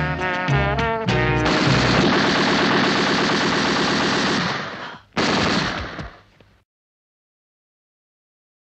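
Video game gunfire rattles in loud, dense automatic bursts for about five seconds, breaks off briefly, then returns for one shorter burst before dropping to silence.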